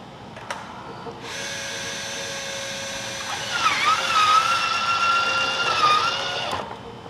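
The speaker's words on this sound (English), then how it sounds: "So if I go to try to stow the motor right now," A Minn Kota Ulterra trolling motor tries to stow, its electric motor whirring steadily for several seconds. The pitch wavers and strains midway before it cuts off abruptly.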